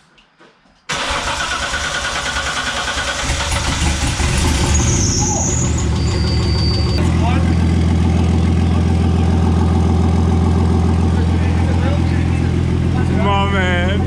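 An RB30 turbo engine in a car conversion cranks and fires for its first start, then settles into a loud, steady, slightly lumpy idle close by, with people talking and shouting excitedly over it.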